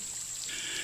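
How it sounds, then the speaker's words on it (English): Spring water at Healing Springs trickles and pours in a steady, close stream, alone. "This water has been flowing up through the ground for hundreds of years"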